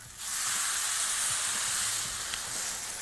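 Water poured into a hot pot of rice hisses and sizzles with steam in a steady, fairly quiet wash of noise lasting about three seconds, with no talking.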